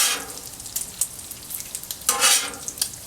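Bacon frying in a pan for chili, a quiet sizzle with bursts of crackle and the scrape of stirring, heaviest near the start and again around the two-second mark, with no talk.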